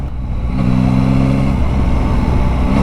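A Yamaha Tracer 9 GT motorcycle engine pulls from low revs in fourth gear, a loud, smooth, deep drone with a steady rising hum.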